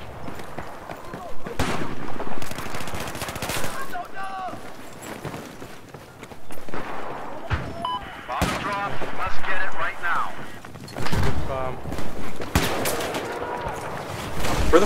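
Gunshots and bursts of automatic fire ring out loud and close in Battlefield 4, with players talking and shouting over the gunfire.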